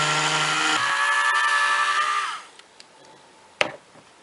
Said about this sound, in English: I have here my Dremel with a soft cotton tip